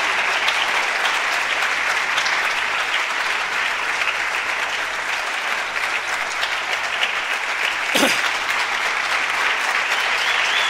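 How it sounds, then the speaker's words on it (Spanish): A Honduran church congregation keeps up sustained, dense applause during worship, loud and even throughout, with one sharp thump cutting through near the end. "Dele bien esa ofrenda de palmas a Jesús"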